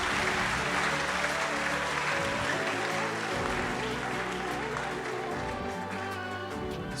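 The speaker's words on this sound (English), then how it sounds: "Hey, let's clap again for GCB Bank." An audience applauds for GCB Bank in a sustained burst of clapping, with crowd noise and low music or hum beneath it. A voice can be heard faintly under the applause throughout.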